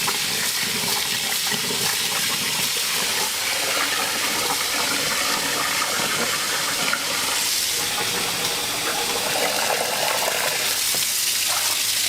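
Running water in a restaurant kitchen washing area, a continuous loud splashing hiss with clattering and scrubbing throughout, no talk.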